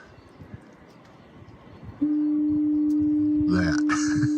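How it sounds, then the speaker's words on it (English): A foghorn at Twillingate, Newfoundland, starts suddenly after quiet background noise and holds a single loud, steady low tone to the end, with brief voices speaking over it. "Foghorns."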